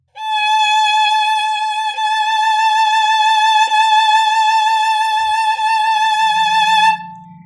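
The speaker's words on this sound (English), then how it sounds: "So that was a very fast and full vibrato." A violin holds a single sustained note with fast, full vibrato, a steady wavering tone that stays loud and alone for about seven seconds before stopping.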